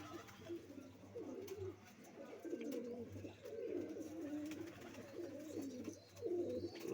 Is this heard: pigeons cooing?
yes